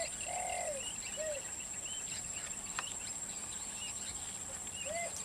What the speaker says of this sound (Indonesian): ini adalah burung kutilang ya